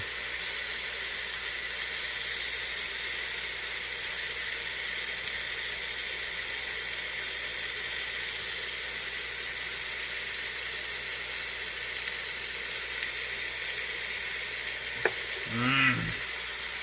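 Burrito bowl ingredients sizzle steadily in a hot pan for a long stretch, a dense even hiss, followed near the end by a short clatter and scrape as the food is flipped; no talking.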